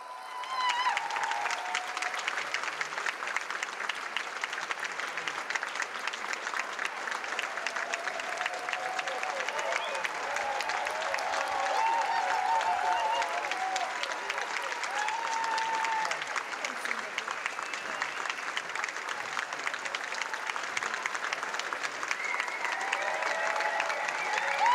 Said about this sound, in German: bitte ich jetzt das ganze Team mal auf die Bühne, weil auch ihr habt natürlich einen riesigen Applaus verdient